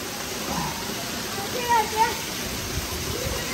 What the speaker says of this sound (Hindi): ये देखें जी कितनी तेज बारिश हो रही है।